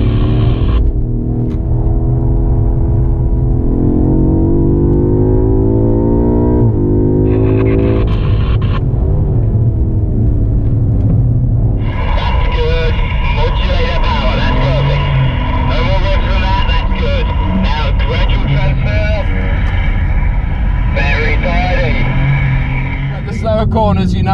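BMW M5 driving on the Bedford Autodrome track, its engine note rising and falling through the gears as a steady loud drone, with someone talking over much of it.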